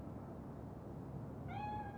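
A cat in Cyberpunk 2077 lets out a single clear meow near the end, rising out of a steady low ambient game hum.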